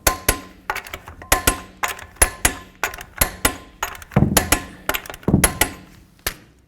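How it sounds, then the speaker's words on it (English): Repeated sharp metallic clicks and clanks ring out in a steady rhythm as a torque wrench tightens lug nuts to 140 foot-pounds on a 2015-20 GMC Yukon rear wheel, close and loud with no talking. "Start all your lug nuts, snug them up, and torque them to 140 foot-pounds"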